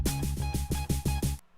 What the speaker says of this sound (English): Let's get down to just the bass.